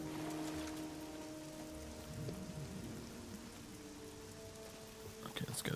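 Steady rain pours across the Oblivion game world, a dense continuous hiss with low ambient hum beneath and a brief clatter near the end, no voices.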